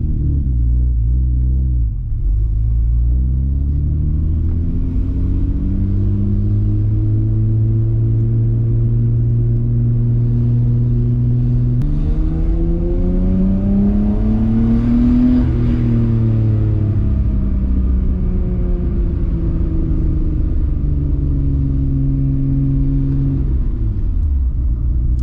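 A Nissan R32 GTR drives and accelerates, its engine rumbling loudly and steadily with rising and falling revs through several gear changes, close and alone without talk.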